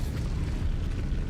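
An Incendio fire spell cast in the SpiritVale video game, a dense low roaring burst of fiery rumble that holds steady and loud for its whole short length.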